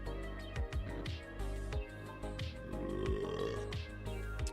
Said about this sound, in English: Sorry to anybody who is not into the sound of someone burping